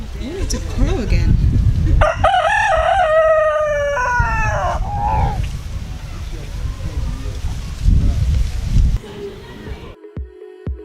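A home-kept rooster in Uganda lets out a single loud, close crow lasting a couple of seconds, with people talking around it before and after.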